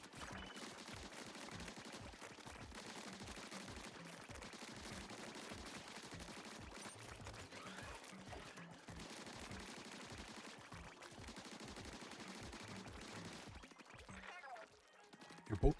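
Rapid, rhythmic shots of ink from a weapon in the video game Splatoon Raiders, a steady stream of soft repeated pops over game sounds, ending with a short louder burst.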